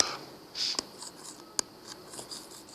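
Rubbing and scrubbing on a classroom board as a drawing is erased, with uneven swishy strokes and a couple of sharp taps, fairly close.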